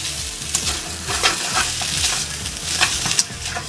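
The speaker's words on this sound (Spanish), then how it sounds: "Empezamos a revolver para despegar todos los sabores de la panceta." Spaghetti being stirred in a pan with frying pancetta, close and loud: sizzling crackle under repeated scraping strokes of the utensil, with no voices.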